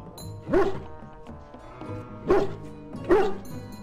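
A hound in the Dragon Age Origins video game barks three times, well spaced and fairly close, with a low musical game score running underneath.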